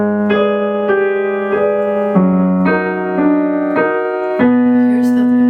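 A piano plays Schumann's Intermezzo Op. 26 No. 4, a series of sustained, resonant chords struck about every half second, sounding clear and close with no talking over it.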